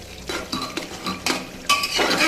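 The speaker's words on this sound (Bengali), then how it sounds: "এটাকে একটু ভালোভাবে নেড়ে চেড়ে দেবো" A spoon or spatula stirs vegetables in a cooking pan for a simple vegetarian dish, giving several close, distinct scraping clinks in an irregular rhythm, with no voices.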